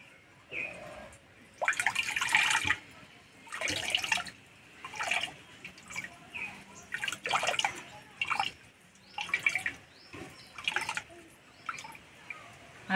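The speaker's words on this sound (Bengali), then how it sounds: "এই জন্য জলটা চিপে বার করে নেব।" Water squeezed by hand from boiled elephant foot yam splashes and drips into a vessel in short, separate bursts, each squeeze a brief wet trickle followed by quiet, close and fairly soft.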